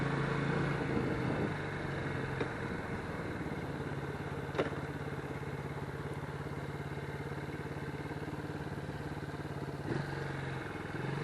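A Lifan KP Mini 150 motorcycle engine idles nearby with a steady low throb and faint mechanical clatter, a few small clicks, and no talking.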